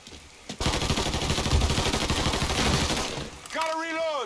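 Sustained rapid automatic gunfire from a Mafia 3 firefight, loud and dense for about three seconds, followed by a burst of game music or voice tones at the end.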